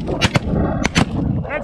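Shotgun blasts during a 13-man goose hunt in the rain, fired at geese overhead: two loud, sharp reports close together, a short pause, then two more, with faint outdoor background between.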